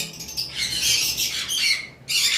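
Green-cheeked conures at a lovebird farm let out bright, harsh squawks and chatter in a dense overlapping burst, close by and loud, with a short lull before the calling resumes.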